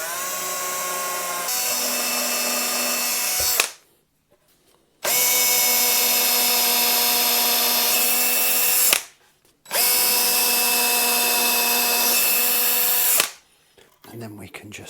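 A power drill bores holes into a bass guitar body for a pickup in three long, steady high-pitched bursts separated by short pauses, close and loud with no talking over it.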